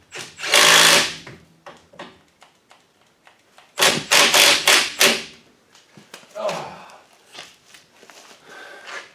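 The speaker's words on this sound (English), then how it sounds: "We'll tighten up the center nut." A center nut is tightened with a one-inch socket on an impact wrench, loud buzzing rattling bursts, two long and several short, close by with quieter clanks between.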